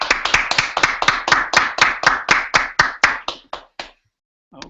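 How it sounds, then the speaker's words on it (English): Clapping after a student presentation, a quick run of about fifteen sharp, close claps in an even rhythm that fades out, then a brief faint sound after a pause. "Let's give these guys a round of applause."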